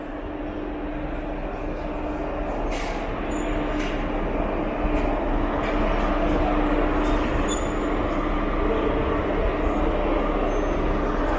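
The 06819 Erode–Palakkad Town MEMU, a 2019 ICF-built unit at Palakkad Town station, gives off a steady, loud rumbling drone with a sustained hum and occasional metallic squeals, heard close and continuous.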